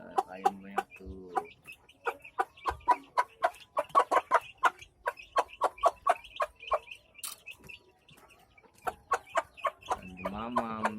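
Many chickens cluck in quick rhythmic bursts, near and fairly loud, their calls running in clustered series with brief pauses, while a child and an adult talk softly at the start and end.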